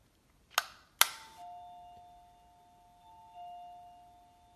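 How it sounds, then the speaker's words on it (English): Battery-free smart doorbell with a wireless receiver: two sharp button clicks, then an electronic chime sounds two clean, sustained tones in a quiet room. "and I'll try to press this doorbell"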